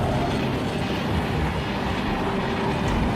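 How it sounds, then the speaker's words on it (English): A high-speed train runs along railway tracks with a steady, dense roar that holds without a break, and no voices are present. "A cow crossing the railway tracks was struck by a high-speed train."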